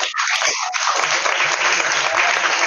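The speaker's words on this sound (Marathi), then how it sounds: "आज सगळ्यांनी ना फक्त मुलींसाठी जोरात टाळ्या वाजवायच्यात." Room full of schoolchildren clapping loudly for the girls after a children's discussion session, a short, dense burst of applause.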